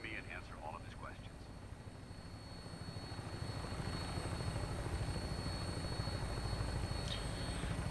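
An aircraft on final approach to an airport in Fallout 4 gives a steady, low engine drone that swells gradually and stays loud. A few faint voice-like chirps come early, then the rumble continues alone.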